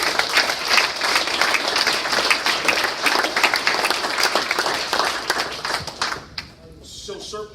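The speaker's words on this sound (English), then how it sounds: "round of applause to you" Banquet audience breaks into a sustained round of applause for about six seconds, dense and loud across the room, then tapers off into a few scattered claps.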